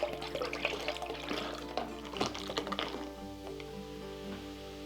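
Corona beer pouring from the bottle into a carne asada marinade, making a steady close liquid splash and gurgle that fades toward the end.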